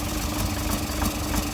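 A 2015 Toyota Prado with a 1KD-FTV diesel engine, which has a knocking fault, idling during a decarbon flush with the inlet manifold off. It runs as a steady, loud, rumbling drone with a rough rhythmic clatter, heard close by.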